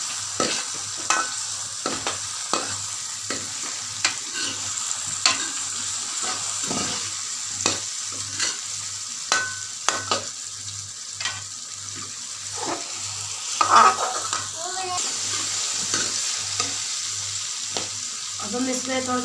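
Carrot curry (gajar ka salan) fries in a pan with steady sizzling while a utensil stirs and scrapes in frequent irregular knocks, close and continuous with no talk.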